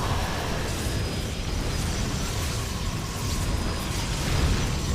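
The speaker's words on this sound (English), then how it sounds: "Oof, big explosion there." A big explosion in the StarCraft II video game, a dense, loud burst of rumbling blasts and crackling debris that stays sustained over several seconds with no voice.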